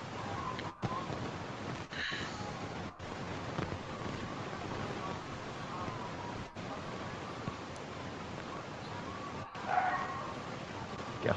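A dog barks and yips indoors, reacting to something outside, with repeated short barks and whimpers over a steady background hiss and a few abrupt cuts.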